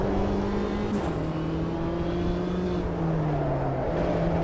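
Mini Cooper JCW race car engine in the Automobilista 2 racing game, a steady droning hum at moderate revs with a slight pitch drop partway through, held continuously from the cockpit with no talk.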